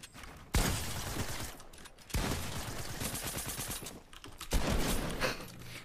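Rapid bursts of gunfire from a Fortnite match, several loud volleys of automatic shots in quick rhythm, separated by brief pauses, with no talking.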